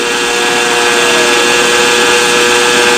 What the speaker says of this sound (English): You can hear the engine scream here